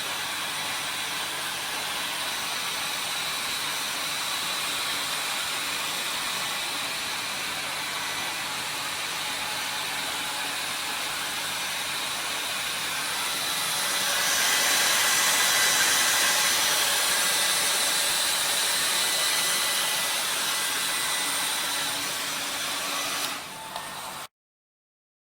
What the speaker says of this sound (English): after washing, you have to dry the specimen using the dryer